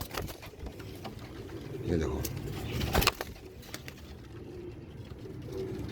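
Soft pigeon cooing in a low, rolling murmur runs throughout, with a louder burst near the middle and someone talking over it.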